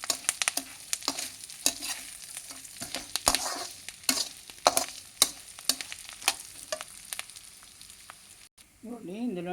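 Fresh curry leaves frying in hot oil in a pan, a crackling sizzle with sharp irregular pops and spatters, fairly close, fading near the end into a brief different sound.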